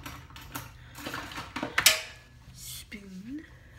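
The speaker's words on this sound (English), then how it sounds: "I put sugar in my tea" A metal spoon clinks against a teacup while sugar is stirred into tea, a few light rattling taps and scrapes close by, with someone talking around them.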